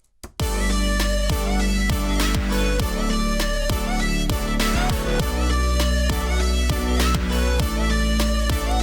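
A loud electronic dance drop kicks in after a brief silence, pounding bass and punchy drums driving a steady four-on-the-floor beat, no voices.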